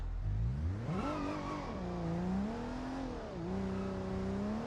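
A BMW E36 engine in the driving game BeamNG.drive revs hard and climbs through the gears, its pitch rising, dipping at each shift, then climbing again, loud and close with no talk over it.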